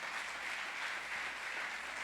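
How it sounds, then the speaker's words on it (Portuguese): Congregation applauding during a church worship service, a steady, dense wash of clapping that stays even and moderately distant for the whole stretch, with no voices over it. "Você pode dar uma salva de palmas a esse Deus maravilhoso?"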